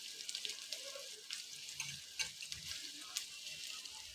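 Garlic and crushed ginger frying in a pan, a soft, low crackling sizzle with light scraping stirs and occasional small taps, fairly quiet and steady.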